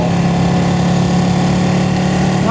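A Ducati 899 Panigale with its stock exhaust idles steadily, a loud, close, even engine rumble that holds unbroken from start to finish.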